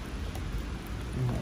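Steady rain falls outdoors beside the Thames in London, a constant close hiss of drops pattering on surfaces with a faint low rumble underneath.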